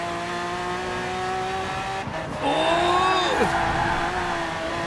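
A 1991 Bentley Turbo R in Forza Horizon 4 accelerating hard. The engine drone climbs in pitch, drops at a gear change, then pulls up again, loud and close, with a brief tire chirp.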